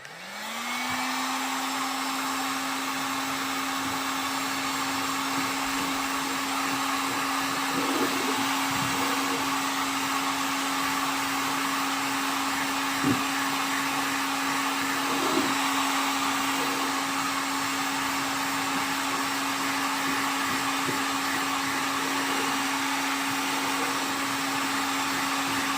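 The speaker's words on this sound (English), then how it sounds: "Now we'll hit them with the heat gun, shrink those up." A heat gun blows steadily for the whole stretch, shrinking plastic seal bands onto bottles of homemade hot sauce, a constant airy whine with a few faint clicks and knocks and no talking.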